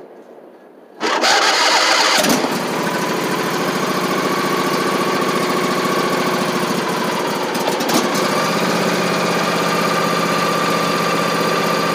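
A 2004 Husqvarna YTH 2454 riding mower engine, choked, cranks and fires at once into a loud, steady idle that runs on close by with a slight shift in tone late on.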